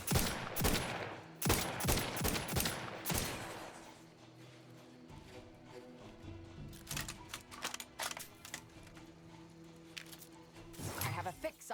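Bursts of rapid gunfire in the video game The Outer Worlds 2 open the scene in several loud volleys, fall quiet, then crackle back in sharper, scattered shots near the end.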